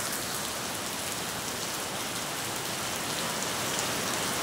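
Heavy rain pours down at night in a dense, steady roar, constant and close, with no pauses or voices.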